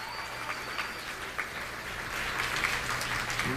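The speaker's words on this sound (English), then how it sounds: "Give yourselves a round of applause for being here for this whole week." Audience applause at a Washington gathering in 2003, a steady wash of clapping from a crowd filling the room, fairly faint and even throughout with no talk over it.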